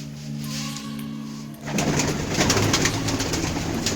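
Pigeons cooing in low, repeated throaty calls, steady at first, then joined by a burst of louder, broadband noise and rustling that continues under the cooing.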